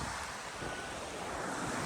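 Floodwater rushing across a submerged village road, a steady broadband wash and roar that holds evenly throughout with some wind buffeting and no voices.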